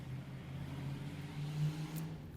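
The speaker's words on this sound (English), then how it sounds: "Loud car." A loud car goes by outdoors, its engine a steady low drone that swells slightly near the middle and then eases off, with no voices.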